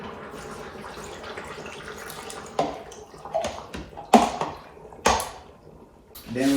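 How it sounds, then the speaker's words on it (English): Water pours into an Instant Pot in a home kitchen, a soft running splash with a few sharp clinks and knocks of the pot. "And add our water."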